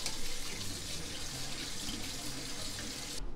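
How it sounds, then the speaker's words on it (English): Cool tap water runs steadily from a faucet into a sink to rinse food, a constant close splashing rush that fills the whole stretch and stops just at the end. "Now just rinse with some cool water."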